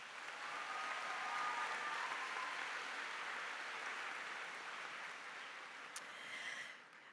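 A high school graduation audience applauds in a steady, fairly distant wash of many hands clapping that holds evenly and then tapers off at the end.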